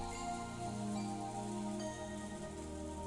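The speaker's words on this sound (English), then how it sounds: "As we listened to the sound of the rain" Rain in the visual novel game Umineko When They Cry falls as a steady, soft hiss beneath sustained background music, continuous and even throughout.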